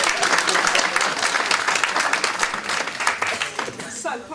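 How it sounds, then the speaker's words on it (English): An audience at a youth suicide awareness concert gives a round of applause for a speaker, dense and loud clapping from many hands that thins slightly toward the end. "Another round of applause for Sister Diana."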